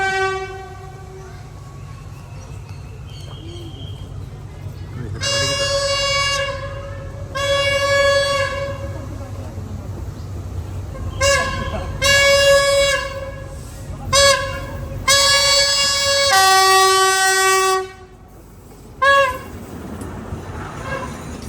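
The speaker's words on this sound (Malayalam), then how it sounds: "ഫൈനലി ട്രെയിൻ വന്നു തുടങ്ങി" A tourist train on the Death Railway in Kanchanaburi, Thailand, rumbles in and sounds its horn in several long blasts and shorter toots, loud and close.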